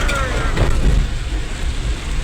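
Steady rain falls over a farm field, a dense continuous hiss with low rumbling wind noise, close and loud, and voices talking faintly underneath.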